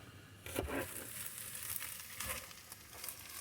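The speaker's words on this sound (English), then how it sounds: "Now we're back in the van making some dinner, making a newfound favorite of ours, ramen noodles with tofu." Ramen noodles and tofu cooking inside a van, with a soft, steady sizzle and a few crinkling, stirring noises up close, no talking.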